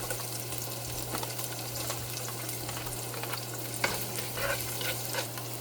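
Onions stir-frying in a pan with assorted vegetables, a steady close sizzle with occasional stirring scrapes over a constant low hum, no talk.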